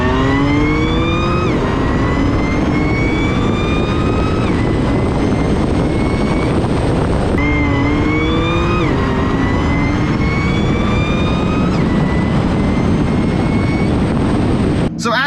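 A Stage 2 tuned Audi B8 S4 (Integrated Engineering tune, single pulley, 93 octane with E30 fuel) revs hard through the gears, its loud engine note repeatedly climbing in pitch and dropping at each shift, continuous and close.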